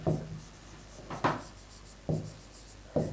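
Chalk or marker strokes on a board during a lesson, four distinct scratchy writing strokes spaced about a second apart, close and fairly quiet, with no talking.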